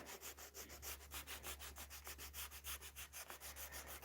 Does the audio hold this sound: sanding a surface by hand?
yes